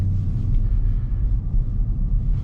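Dodge Charger Scat Pack driving through a snow storm, a loud, steady low engine and road rumble heard from inside the car, continuous with slight fluctuations.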